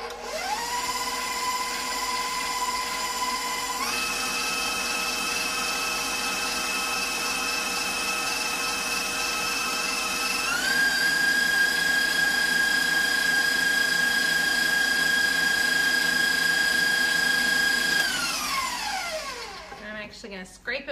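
A KitchenAid stand mixer whirring at steady speed, stepping up twice to higher speeds with a whining motor tone before spinning down to a stop, fairly close, with someone talking over it.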